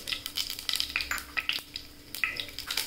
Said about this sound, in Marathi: तेल तापले तर मोहरी टाकूया